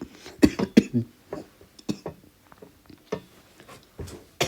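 Someone coughs in a quiet room, several sharp bursts, a loud close pair near the start, then scattered softer coughs and throat clearing, with no speech.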